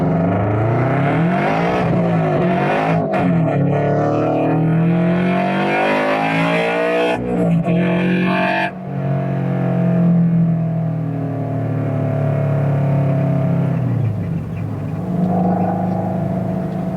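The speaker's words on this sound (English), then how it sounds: "let's see if I could floor it in first gear" Toyota GR86 with a Perrin clutch line, floored in first gear: close, loud engine revs climbing steeply, a brief dip at the shift, then rising again with steady whine, with a little talk in places.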